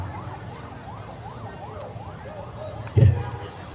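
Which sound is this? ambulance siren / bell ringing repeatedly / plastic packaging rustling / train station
ambulance siren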